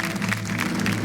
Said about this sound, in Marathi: एकदा जोरदार टाळ्या तिघींसाठी झाल्या पाहिजे